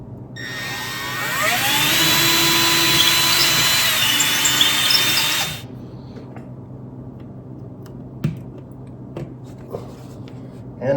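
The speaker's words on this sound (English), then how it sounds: "I'm going to drill and then ream it out a little bit." A power drill drilling into a wall whirs loudly for several seconds, its pitch rising as it spins up, then cuts off, followed by a few faint knocks and clicks.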